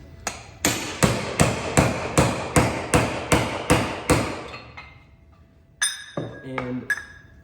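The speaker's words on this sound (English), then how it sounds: "take the two bearing retainers. This is the front bearing retainer that we supply and the rear bearing retainer, and drive their new races in" Metal hammer driving new bearing races into front and rear bearing retainers for a Magnitude 205 transfer case: about ten sharp, evenly spaced ringing blows close up, followed by brief speech.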